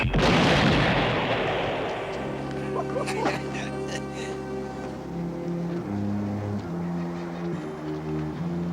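A grenade blast from a French television action series opens loud and broad, then fades into a long rumbling tail, with a raised voice and tonal score underneath.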